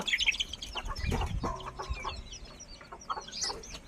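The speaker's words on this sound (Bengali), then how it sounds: "শহরে কিন্তু এরকম মুরগির ডাক কোনোদিন শুনতেই পাবে না, এটা গ্রামে ছাড়া আর কোথাও পাবে না।" Village chickens and a rooster clucking nearby after being let out of their coop, with overlapping short clucks and calls, a brief flutter of wings and steady outdoor background.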